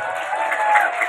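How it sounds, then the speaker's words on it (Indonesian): Audience applause at a school Ramadan sermon event, a brief even wash of clapping from a crowd of students, moderately loud, with faint voices mixed in. "Tepuk tangan."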